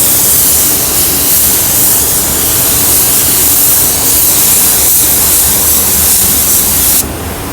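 A paint spray gun sprays onto a Chevy Sonic body, a loud, close, continuous airy hiss that holds steady and then drops off sharply near the end.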